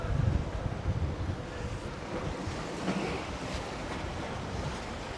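Atlantic Ocean surf on the coast of Morocco, a steady broadband roar of breaking waves mixed with gusty wind buffeting the microphone, loud and continuous with no voices.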